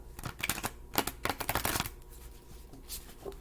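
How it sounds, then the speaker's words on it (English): A deck of cards is shuffled up close in a quick flurry of riffling and papery slaps, then settles into softer handling, with no voices. "let's shuffle"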